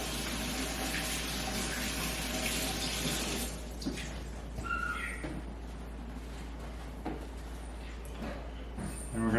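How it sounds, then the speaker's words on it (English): Water runs steadily from a tap while hands are washed beneath it, a close, continuous splashing rush with small shifts as the hands move through the stream. "just make sure you wash your hands really well"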